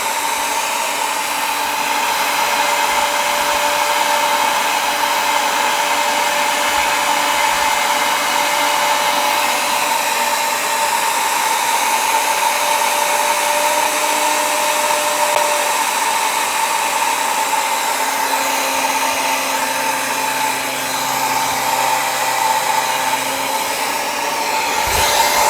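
A Gorilla G3 machine with its pump clutch runs steadily and loudly on its own, a continuous whirring motor drone with a bright, airy hiss, unbroken for the whole stretch and noticeably quieter than the older G2.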